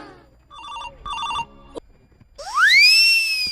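A phone rings with an electronic ringtone: a short melodic burst, a brief pause, then a rising synthetic tone, loud and close.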